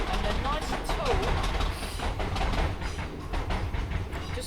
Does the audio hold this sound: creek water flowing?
no